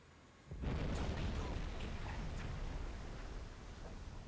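Torpedo hits exploding against ships in Silent Hunter 5, a sudden loud boom after half a second that rolls into a long, heavy rumbling roar slowly fading over several seconds.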